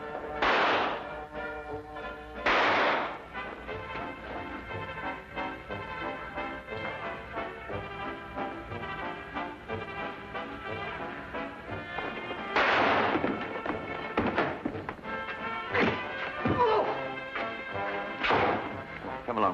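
Gunshots in a Sherlock Holmes radio drama, several loud sharp bangs spread across the scene between stretches of background music, alone without voices.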